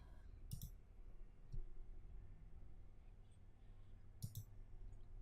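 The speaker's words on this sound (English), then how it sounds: "Click on activate." A few faint, crisp computer mouse clicks, spaced apart as a button is pressed, over quiet room hiss.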